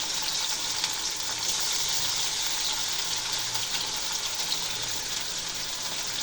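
Onion, ginger and garlic paste fries in a hot pan for katla fish dopiaza, giving a steady, even sizzle that holds close and unbroken throughout.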